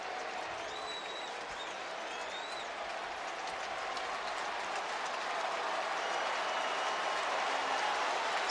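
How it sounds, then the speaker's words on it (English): A sold-out stadium crowd at an Indiana football game roars in a dense, continuous wall of cheering and applause that swells slightly louder toward the end, with faint whistles above. "Sold out crowd starting to cheer loudly again"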